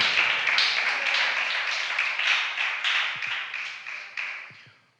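A church congregation breaks into applause, a steady wash of many hands clapping in a large room that gradually fades out.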